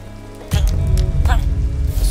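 Rain falling in the video game Minecraft during a house fire, a steady broadband patter that starts abruptly and continues under loud talking and other game sounds.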